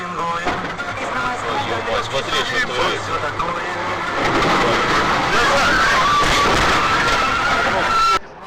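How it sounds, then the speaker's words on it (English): Car skidding out of control on a road after a blown tire, a sustained tire screech and engine noise rising midway and holding loud until cutting off abruptly near the end. "He blew a tire and lost control."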